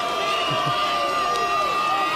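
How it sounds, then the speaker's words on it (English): A crowd cheers after a penalty at the 2024 rugby league grand final between Blackall Magpies and Barcaldine Sandgoannas, a steady loud roar of voices throughout with a commentator speaking over it. "I think the crowd just cheered louder than the first Friday score."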